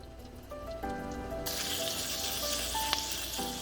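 Beef strips and potatoes fry in a pan over a medium flame, giving off a steady, moderately loud sizzle, while faint tonal background sounds run through it and no one speaks.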